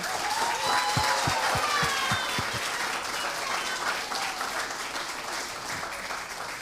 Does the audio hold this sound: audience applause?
yes